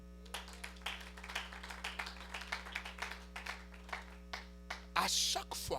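A church congregation claps in a steady, quick rhythm to acclaim Jesus, faint and evenly spaced, with a brief louder burst near the end.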